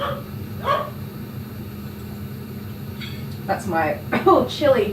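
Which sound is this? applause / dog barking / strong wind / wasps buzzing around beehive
dog barking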